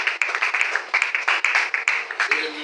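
A church congregation applauding together, a brisk, fairly close run of many hands clapping in a quick irregular rhythm.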